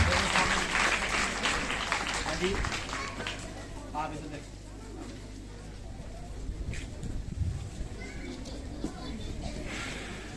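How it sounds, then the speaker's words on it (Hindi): Applause for students at a school prize-giving ceremony in Sirmaur, Himachal rises and fades under a speaker's voice, giving a scattered, moderately distant crowd clapping. "जोरदार तालियां इन बच्चों के लिए।"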